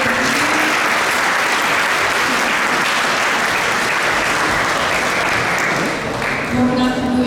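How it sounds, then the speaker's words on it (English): Loud, continuous applause from a gathered crowd at a Sunday temple feast, honoring the cook of the evening's dinner; steady clapping fills the whole stretch, easing briefly near the end. "Round of applause, please."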